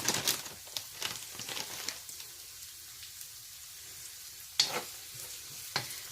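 Broccoli sizzles in avocado oil with a little sesame oil, a soft steady crackle in the pan broken by a few sharper stirring scrapes and spatters, fairly quiet overall.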